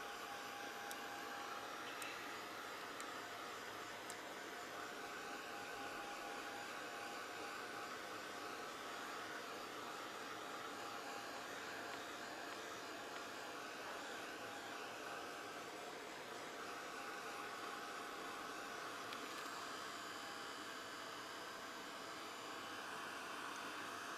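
A dryer blows a steady, loud airy roar over a mixed media butterfly artwork, holding unbroken for the whole stretch with no talk.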